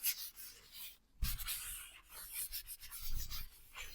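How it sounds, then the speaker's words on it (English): A quick rub of fluid acrylic paint across a surface makes soft, close scraping and rasping strokes with a short pause partway through, quiet and without talk. "Just gonna do a quick rub."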